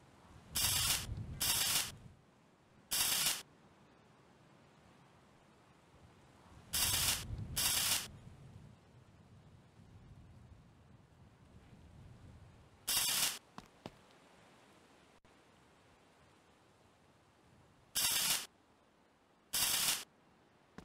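Stick welding in the My Garage game on a totaled Ford B200 truck: repeated short bursts of crackling, spraying arc noise, each lasting about a second, separated by quieter gaps.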